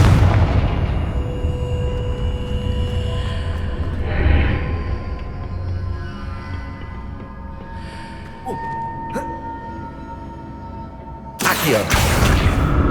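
Confringo fire spell in the Hogwarts Legacy video game, a loud booming blast at the start that decays into rumbling ambience, followed by lighter thuds and a second loud burst near the end.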